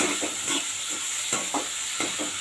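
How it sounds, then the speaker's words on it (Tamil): Tomatoes sautéing in a pan for tamarind curry give a steady low sizzle, with a few soft stirring scrapes on the pan, heard alone. "இப்போ இந்த தக்காளி வந்து லைட்டாக வதங்கட்டும்"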